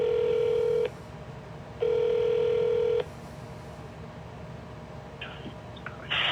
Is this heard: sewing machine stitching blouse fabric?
no